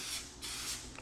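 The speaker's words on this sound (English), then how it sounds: "we spray a coating onto the surface we're inspecting" Aerosol can spraying a red dye penetrant coating onto a part's surface for nondestructive inspection, a steady close hiss in two short bursts with a brief pause between them.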